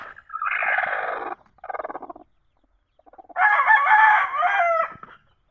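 Pet chickens, including a rooster, close by making loud clucking and crowing calls in several bursts separated by short pauses.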